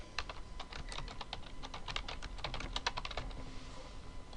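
Quick, fairly even keystrokes tap on a computer keyboard as a password is entered, forming a close, steady stream of crisp clicks with no talking.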